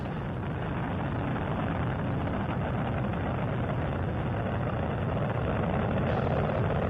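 Space Shuttle Endeavour's rocket engines roar during ascent after the roll program on a flight to the International Space Station, a dense, continuous, loud broadband rumble that holds steady throughout with no talk.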